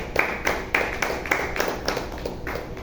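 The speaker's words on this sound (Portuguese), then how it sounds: "Palmas para Jesus." A church congregation claps in an even, repeated rhythm, a loud, close run of about ten sharp sets of claps with no speech over them.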